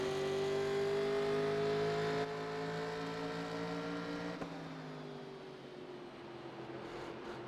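A 1987-style Winston Cup stock car in the iRacing sim at Rockingham holds a steady high engine note, then eases off with a drop in tone partway through, alone with no talk.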